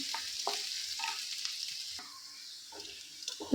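Ginger and garlic frying in oil while being stirred until brown, a soft steady sizzle broken by close scraping strokes of the spoon against the pan, fairly quiet throughout.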